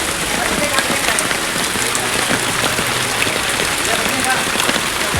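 Heavy monsoon rain in Varanasi pours down after two hours of downpour over flooded streets, a loud, dense, unbroken hiss of drops hitting surfaces close by.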